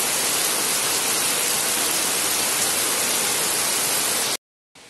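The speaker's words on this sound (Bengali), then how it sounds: "তো দেখেন প্রচন্ড বৃষ্টি" Heavy rain pours in a dense, steady roar close by, continuing unbroken until it cuts off abruptly near the end.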